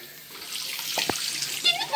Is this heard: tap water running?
yes